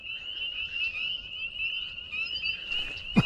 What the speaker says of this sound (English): All these frogs down here,